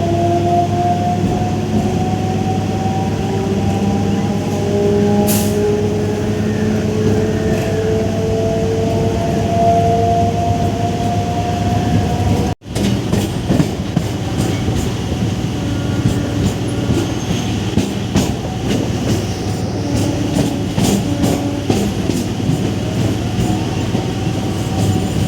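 An EMU suburban train on the Chengalpattu to Arakkonam route rumbles loudly and continuously from inside the carriage, with rising and falling motor whine, rattling and clickety-clack over the rails. A sharp jolt comes about midway.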